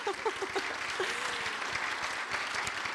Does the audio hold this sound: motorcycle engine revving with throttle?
no